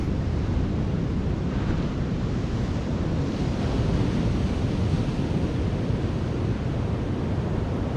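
Surf breaking along a high-tide beach at South Withernsea, a steady low roar of waves mixed with wind buffeting the microphone, continuous and fairly loud with no talk.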